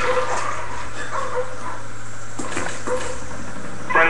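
Attack dogs bark and yip in Call of Duty Black Ops, a few short, fairly faint bursts scattered over constant game background noise.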